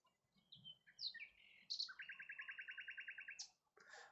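A male nightingale sings in Thanet, with varied whistled and chirped phrases followed by a rapid, evenly pulsed trill of about a dozen notes. The song is clear and fairly close against quiet background.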